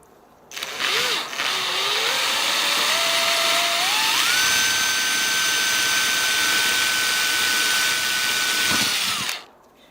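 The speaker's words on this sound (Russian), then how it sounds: "Ну, сверлим вертикально." A power drill bores vertically into a coconut, its motor spinning up with a rising whine that holds a steady high pitch for several seconds before cutting off, loud and close with no talk.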